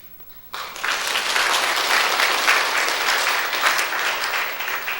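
A church congregation breaks into sustained applause at a Sunday morning worship service, a dense roomful of clapping that starts abruptly and continues steadily to the end.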